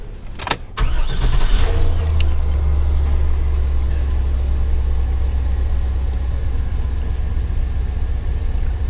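A 2004 Chevy 2500HD truck with 250,000 miles cranks briefly, catches, and settles into a steady, close, rumbling idle that continues unbroken.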